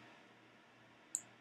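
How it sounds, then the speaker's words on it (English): A single sharp computer mouse click sounds once near the end, faint and close, over a low steady room hum. "right click, choose lookup in dictionary"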